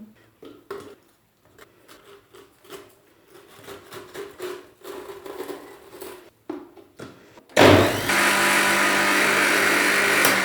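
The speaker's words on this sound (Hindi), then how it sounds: "इन सूखे हुए स्लाइसिस को मैं तोड़ के इस ब्लेंडर में ऐड करती हूँ" Scattered knocks and rustles as dried bread slices are broken into a blender, then it suddenly roars to life, grinding them loudly and steadily into crumbs until the end.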